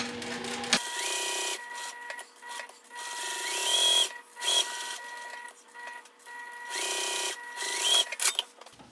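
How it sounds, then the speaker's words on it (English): Sewing machine basting a seam around a fabric pocket piece for a travel pouch, running in steady whirring bursts with brief pauses and a mechanical hum, close and without talk. "I'm just basting 1/8 of an inch away around this pocket piece."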